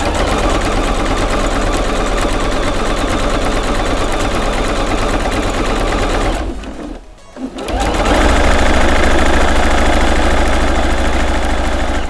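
A sewing machine stitching around a padded, wadding-filled section of a homemade knitting needle holder, running in a fast steady whir, then briefly pausing and slowing before starting up again loud and close.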